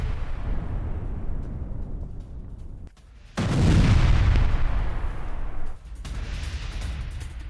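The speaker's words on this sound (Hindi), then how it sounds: "गोलीबारी और इलाके से धमाके से इस पूरा इलाका दहलता हुआ दिख रहा है" Heavy gunfire and explosions near the Lebanon border rumble in rolling bursts, with a loud, sustained blast surge midway that drops off abruptly before the distant booming resumes.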